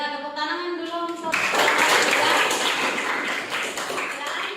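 A classroom of students claps hands together in a burst of applause, dense and sustained after a spoken voice, continuing steadily to the end.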